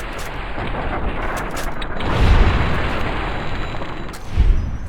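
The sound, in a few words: gunshots in a video game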